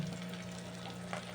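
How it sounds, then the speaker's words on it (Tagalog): Eggplant cooked with egg fries in a pan, giving a constant soft sizzle close by with a low steady hum underneath and no voices. "ganyan ba kayo mag-prito ng talong?"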